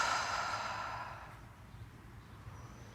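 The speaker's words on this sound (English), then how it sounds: "take a big deep breath. Exhale, let it out." A slow yoga-class breath: a soft, breathy exhale fading away over a couple of seconds, quiet and close, ending in near silence.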